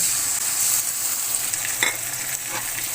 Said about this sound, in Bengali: এখন আমি একসঙ্গে বেটে রাখা আদা জিরা রসুন দিয়ে দিব